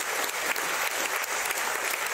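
Audience applause at a generative art and design conference, a steady dense wash of many hands clapping with no pauses throughout.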